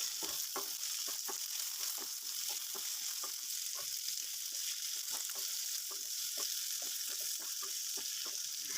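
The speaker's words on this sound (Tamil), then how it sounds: "வெங்காயம் தக்காளி நல்லா வதங்கட்டும்." Onion and tomato with tamarind and salt sautéing in a pan for a peanut side dish, a steady bright sizzle broken by frequent spatula scrapes and stirring taps, close and without talk.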